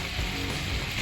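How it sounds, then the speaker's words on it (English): Cumin seeds spluttering in hot butter and oil for Mumbai-style pav bhaji, a steady close crackling sizzle without pause. "we will wait for the jeera to splutter"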